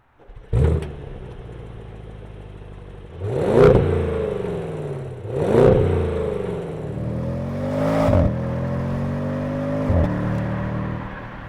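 A 2023 Audi S8 engine starts with a sharp catch, then revs rise and fall through several gear changes as the car pulls away, loud and close throughout.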